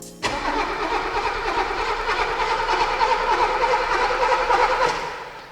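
A 1980s Mercedes that sat in a barn for 10 years cranks steadily on its starter for about five seconds without catching, a loud continuous churning whir close by, no voices.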